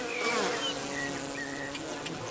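Honeybees around a hive buzz steadily and loudly, a dense droning hum of many insects with individual wingbeats rising and falling close by.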